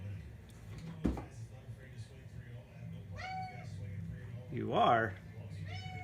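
A pet cat gives a short, clear meow near the end, close to the mic, following a sharp knock, with a person speaking briefly and low background noise throughout.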